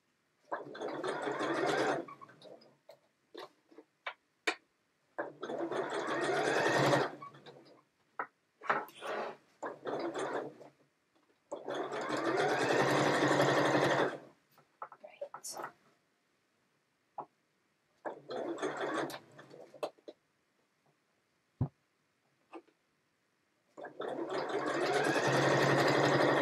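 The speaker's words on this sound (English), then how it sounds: "was going to put my little close-up camera on again, but it is just straight stitching." Domestic sewing machine running straight stitches around a project edge, with several long bursts of steady mechanical whirring separated by short pauses and small clicks, close and fairly loud, no talk.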